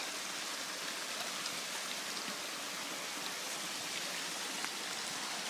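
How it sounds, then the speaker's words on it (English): Waterfall at Forty Foot Falls in Surrey, New Hampshire, amid a hemlock grove, a constant broadband rushing roar of falling water, steady and even throughout with no voices. "There's a beautiful waterfall amid a pretty large hemlock grove"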